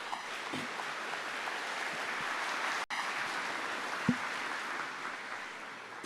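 A church congregation claps together in sustained, even applause that sounds somewhat distant and fills the room steadily for several seconds.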